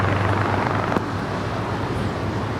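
Jet airplane taking off at LAX airport, a loud continuous roar with wind-buffeted rumble, steady throughout with a brief sharp thump near the start.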